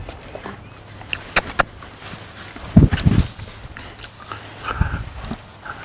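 A horse being backed up makes several heavy hoof thuds and scuffs on the ground, with a cluster of louder steps near the middle and a few sharp knocks earlier, all close by.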